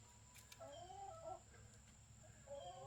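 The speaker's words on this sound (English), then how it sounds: "I'm pretty sure that one walking back there, the furthest one away, is a rooster, and then this other one's a hen." Backyard chickens, a rooster and hens, make soft clucking and warbling calls in a quiet outdoor setting, with several short murmuring phrases spread across a few seconds at low volume.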